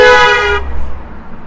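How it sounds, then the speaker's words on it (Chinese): A car horn sounds on a road in Tibet on the G318 highway. One loud, sustained honk cuts off sharply, leaving quiet road ambience. "他在这里一直在鸣笛，就是为了向这座桥墩表达自己的敬意。"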